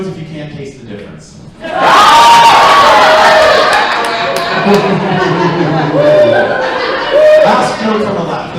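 Drag comedy show audience responds with a mix of cheers, shouts and laughter after a spoken prompt, a rowdy swell that lingers with chatter and scattered whoops for several seconds.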